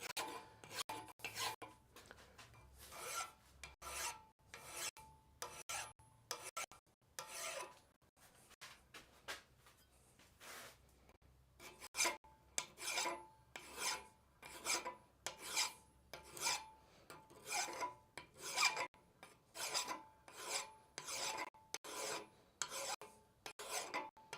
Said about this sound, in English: I'm just going to draw the file over it.